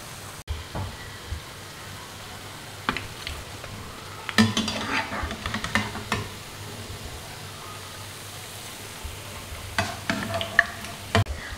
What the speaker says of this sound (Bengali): দুই পিঠে আমি সুন্দর করে ভেজে নিয়েছি